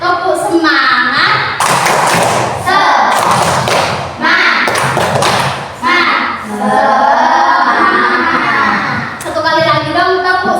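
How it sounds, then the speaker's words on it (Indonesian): Schoolchildren in a classroom perform the 'tepuk semangat' spirit-clap chant, loud bursts of rhythmic group clapping alternating with shouted chanted words, close and energetic. "Tepuk semangat."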